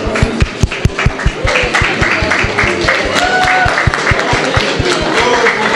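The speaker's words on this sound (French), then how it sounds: "l'équipe Tina Mode avec tous les mannequins et toutes les créations, vivement applaudis par tout le public ici au Rodolphe Avant Club" A crowd applauds the Tina Mode team of models at an Afro-Swiss fashion show in a club, with loud, continuous clapping and a few rhythmic beats over it, and a voice talking throughout.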